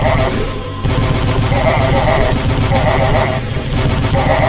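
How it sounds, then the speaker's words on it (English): Assault rifle gunfire in the shooter game Dusk HD rattles out in rapid, loud, continuous bursts, with one brief break early on before the fire resumes steadily. "I'm gonna go ahead and just use the assault rifle against them"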